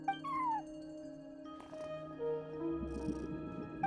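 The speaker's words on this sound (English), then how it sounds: "No one except for a cat watching over the front desk." A cat in the Genshin Impact video game gives a short, high meow near the start, followed by faint game ambience and soft tones.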